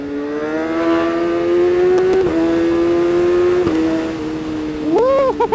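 A 2019 Kawasaki ZX-636R with a quickshifter pulls uphill in second gear. Its loud, close engine holds a high, steady whine, dips briefly at two quick shifts, then flares in a sharp rev at the end.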